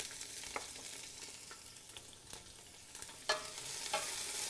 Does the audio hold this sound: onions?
yes